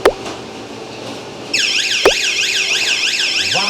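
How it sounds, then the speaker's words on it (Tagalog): A metal detector on a food factory production line is set off by a tiny piece of metal, first a sharp knock, then a loud electronic alarm warbling in steady, repeating sweeps, with a couple of mechanical thuds from the line. "nagkaroon na siya ng alarm and automatic na siyang tumitigil pagka may bakal na dumaan"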